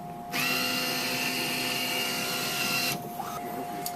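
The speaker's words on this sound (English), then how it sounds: "once we put the lens in here, I'm going to go ahead and hit start." A National Optronics 7E edger blade cutting an eyeglass lens, a loud steady high-pitched whine that starts abruptly, holds for about three seconds, then cuts off, with no talking.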